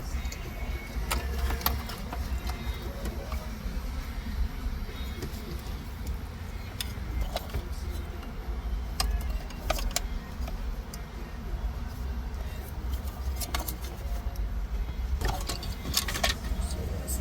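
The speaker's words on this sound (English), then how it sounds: "Just simply pry that out. Disconnect all the harnesses." Plastic dash trim on a 2012 Ford Escape being pried loose and wiring harnesses unplugged, heard as scattered small clicks and ticks over a steady low rumble of background hum.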